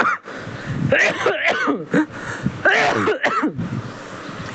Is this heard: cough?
yes